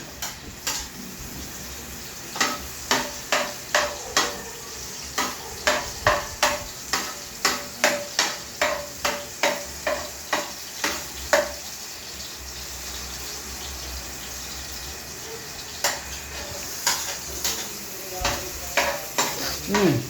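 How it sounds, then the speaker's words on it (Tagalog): Onion and garlic sautéing in a pan, heard as a rhythmic run of sharp spatula knocks and scrapes over a continuous background sizzle, close and fairly loud, pausing briefly before the strokes resume. "Yan, gigisa na."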